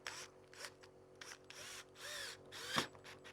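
Short bursts of a power drill boring a small hole for a concealed screw, several brief whirring spurts separated by pauses, close and moderately quiet.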